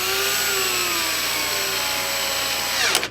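A power driver spins screws into a Sanyo PLC-XM150L LCD video projector during repair, a continuous close whirring motor with a whine that winds down at the end.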